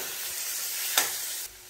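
Moth beans (matki) sautéing with onion, turmeric and red chilli powder in a pan over low heat, a continuous soft sizzle with one brief sharp scrape of stirring.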